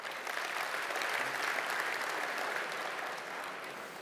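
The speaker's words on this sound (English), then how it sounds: "so please, a round of applause for the Belastingdienst." Applause from a conference audience at the opening of a Java developer event, a steady, even wash of many hands clapping at moderate distance, holding throughout before easing slightly at the end.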